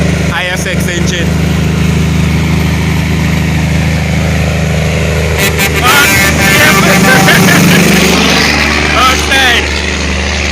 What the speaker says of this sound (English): Listen to that now man. ISX engine.